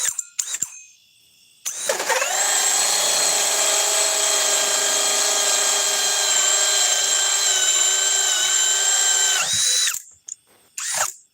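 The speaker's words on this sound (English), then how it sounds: "here comes the Ryobi. Speed 2 with the edge battery" A Ryobi power tool fitted with an Edge battery using tabless cells runs at speed 2, spinning up with a sharp start into a loud, steady, high-pitched motor whine that holds for about seven seconds and then cuts off, with faint handling clicks before and after.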